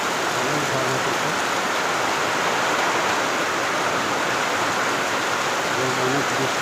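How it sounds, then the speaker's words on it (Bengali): Storm-driven heavy rain makes a constant, close, loud wash of hissing noise that holds evenly from start to finish. "দেখুন বন্ধুরা আমার খুবই ঝড় হইতেছে এবং বৃষ্টি হইতেছে।"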